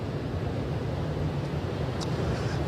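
Heavy surf and strong wind at Sharks Cove on the North Shore, a continuous low rumble of crashing waves blended with steady wind buffeting the microphone.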